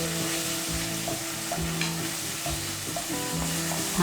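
Shiitake, button mushrooms and bamboo shoots stir-fried in a pan with soy sauce and rice wine, for braised red tofu: a steady close sizzle with a metal utensil scraping and clanking rhythmically throughout, no talk.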